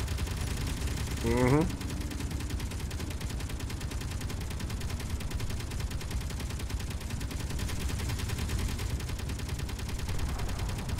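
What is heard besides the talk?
automated gun turrets firing in video game Space Engineers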